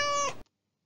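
A single short cat meow, clear and close, with a bright tonal cry that stops abruptly and leaves silence for the rest of the moment.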